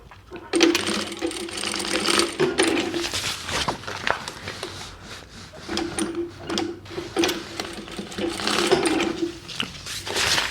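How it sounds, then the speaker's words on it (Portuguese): Sewing machine stitching a bag lining, two centimetres on each side, in bursts of fast whirring needle runs with brief pauses between, close and fairly loud, no talk. "Então a gente vai costurar aqui, ó, 2 centímetros de um lado e 2 do outro."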